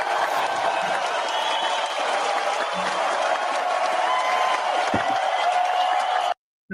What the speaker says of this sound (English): Let's get a round of huge applause.